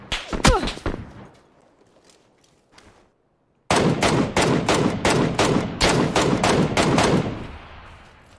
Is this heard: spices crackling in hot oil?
no